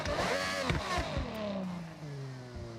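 A car engine in the racing game Forza Horizon 6 revs and shifts through gears, its whining tone sweeping down steadily with a few sharp blips, loud and continuous with no talk over it.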